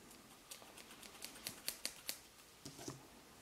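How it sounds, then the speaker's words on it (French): Scissors snip through crochet yarn, giving a run of sharp, crisp clicks that come closer together near the middle, close and fairly quiet with no voice. "Je vais venir couper le fil."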